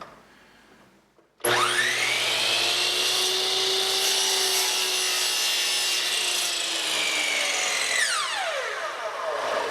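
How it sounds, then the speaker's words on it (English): A hand saw set to a 45-degree angle cuts through wood for a pastry board top, a steady, loud, continuous rasping stroke lasting several seconds up close before trailing off as the cut finishes. "I've swung the saw around to the other side of 90, set it to 45, and I'll cut it to that mark."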